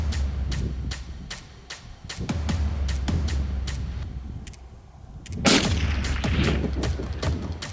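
Rifle shots fired at a zebra during an African hunt, heard as a series of sharp, loud cracks repeating at a fairly steady rhythm, then a heavier blast with a rumbling tail near the end, with no talk.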